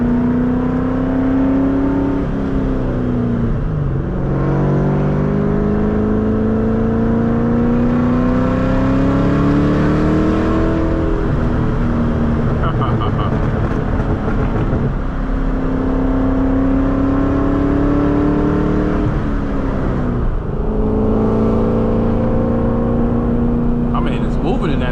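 2003 Ford Mustang Cobra with a supercharger pulls through repeated gear shifts, engine pitch sweeping upward again and again with a rising whine, loud and close from inside the car while someone talks over it.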